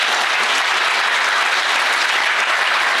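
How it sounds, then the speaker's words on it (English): A conference audience claps in a big round of welcoming applause. The dense, loud clapping fills the room evenly from start to finish, with no talking over it. "Shall we begin by giving everybody just a big round of applause just to welcome everyone?"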